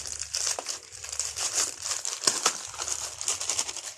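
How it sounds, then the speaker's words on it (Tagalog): Plastic packaging of a parcel crinkles and tears by hand during an unboxing, with no scissors used, in a run of close, busy rustling bursts with a few sharper rips. "Ito na yung last na parcel na i-unbox natin."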